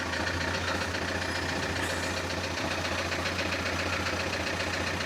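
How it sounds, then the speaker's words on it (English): Sailboat engine running steadily while motoring into harbor, a constant low mechanical drone with a rattling hum that stays even and moderately loud throughout, with no talk over it. "I'll shut the hatch so that the engine noise isn't quite so loud"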